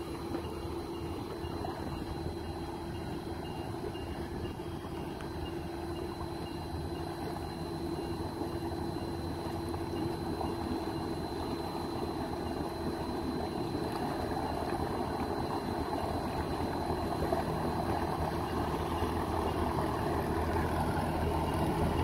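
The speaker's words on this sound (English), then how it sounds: "So yeah, you're better off just leaving your motor in gear, and then you can turn, do whatever you want. Yeah, just leave it in idle" A boat's outboard motor idles at the Superior jetties, a steady low hum running continuously without letup, with faint water sounds around it.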